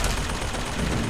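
Close, rapid, dense gunfire during a firefight in BioShock Infinite, a brief continuous rattle of shots with no speech.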